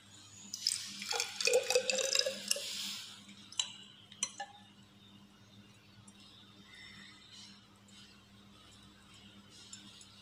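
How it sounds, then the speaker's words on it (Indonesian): Liquid reagent, 30 ml, poured in a laboratory for a dilution step: a loud, splashy gush of a couple of seconds, then a few brief drips and clinks before near-quiet room tone. "Kemudian kita tuang sebanyak 30 mili."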